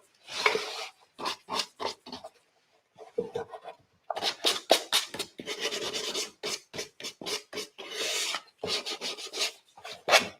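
Sandpaper scrapes dry decoupage paper glued to wood in quick, rasping strokes that come in bursts, some fast and rhythmic, with short pauses between runs, close up and without talk.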